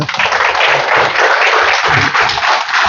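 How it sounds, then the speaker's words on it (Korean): A lecture hall audience applauds to welcome a doctor giving a talk on family business succession, dense continuous clapping that stays loud and steady throughout with no voices over it. "박사님 큰 박수로 모시겠습니다"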